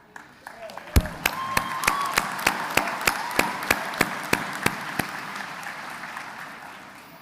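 Audience at a college commencement ceremony claps in scattered fashion, with a series of sharp, evenly spaced single claps standing out loudly near the microphone over a softer background of applause.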